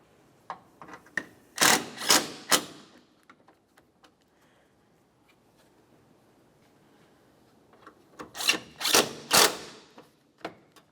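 Tightening 5mm Allen head mounting bolts on a headlight bumper bracket of a 2006-2011 Honda Civic gives two close clusters of sharp metallic ratcheting clicks, separated by a long quiet pause.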